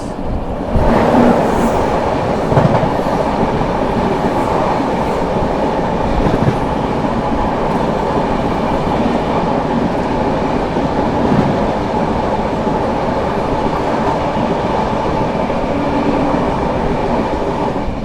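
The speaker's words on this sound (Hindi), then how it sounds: "New Delhi Banaras Shiv Ganga superfast express." A New Delhi–Banaras Shiv Ganga Superfast Express train rolls past close by, a loud, steady roar of wheels and wagons with rhythmic rail clatter that holds for the full stretch without a break.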